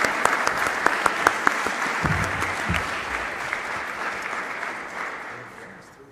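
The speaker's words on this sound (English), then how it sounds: "A big round of applause for our quartet here" An audience applauds a quartet at a university gathering in Ghent, beginning with distinct sharp claps that blend into a broad wash and gradually fade out.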